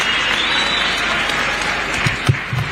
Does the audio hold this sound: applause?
yes